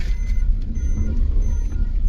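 A car is driven into the parking area at Madhab temple in Hajo, its engine giving a close, steady low rumble throughout.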